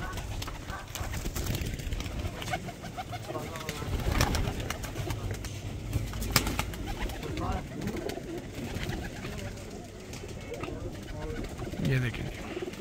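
Champion racing pigeons cooing in a loft, soft repeated low coos mixed with wing flutters and shuffling, while voices talk over much of the scene.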